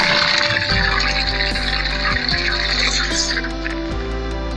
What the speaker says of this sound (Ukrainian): Вода витікає.